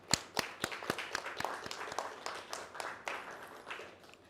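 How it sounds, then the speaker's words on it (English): Scattered clapping from a small audience at a credit union's annual general meeting, a sparse irregular patter of individual hand claps, fairly faint and steady for several seconds. "I want us to give them a round of applause"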